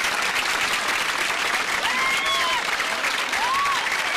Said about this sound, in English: The crowd cheers.